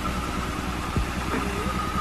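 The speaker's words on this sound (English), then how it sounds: "She's running, she's idling, she sounds healthy." A twin-turbo Nissan Z31 idles steadily up close, a low rumbling hum with a brief louder blip near the middle.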